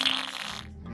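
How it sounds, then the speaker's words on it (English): A fart machine in a school classroom lets out one short, quiet, raspy blurt that trails off into near silence. "He's still messing about with that fart machine."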